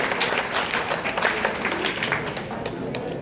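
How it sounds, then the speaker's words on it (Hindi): Students at a higher secondary school in Manpur, Indore clap in a steady, dense burst of applause filling a classroom, continuous throughout with no clear talk over it. "ताली बजाओ।"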